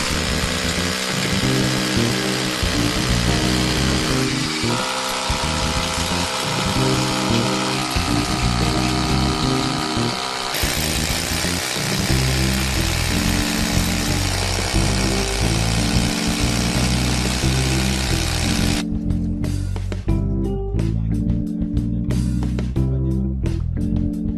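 A power drill bores holes for raw bolt anchors with a loud, sustained whirring drone that shifts pitch between passes, then breaks into stuttering bursts near the end, with no talking.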